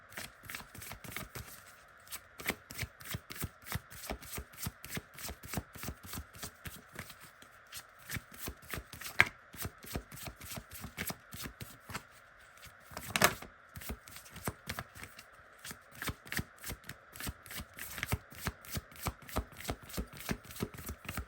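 A deck of Resurrection Oracle and Sacred Destiny oracle cards is shuffled by hand in quick, rhythmic riffles and slaps, close and fairly soft, with short pauses and a couple of sharper taps, no voices.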